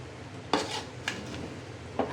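A spoon stirs meat and pulao rice in a metal pot, three separate scraping clatters against the pot over a low, steady background.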